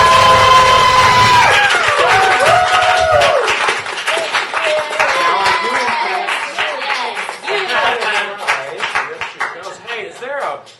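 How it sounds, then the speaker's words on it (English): Applause and cheering for a first-time double winner at a live soapbox show, a dense burst of clapping with whoops that gradually thins and fades, partly under amplified talk at the start. "Everybody, please give your round of applause for our winner"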